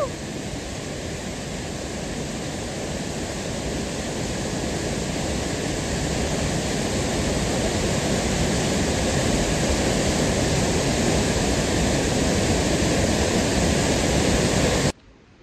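Forceful waterfall near Chorla Ghat in a Goa-area forest, a dense steady roar of pouring water that runs loud and unbroken for about fifteen seconds before cutting off abruptly.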